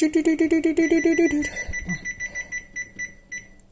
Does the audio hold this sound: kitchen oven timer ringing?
yes